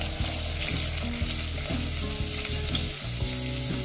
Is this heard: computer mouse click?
no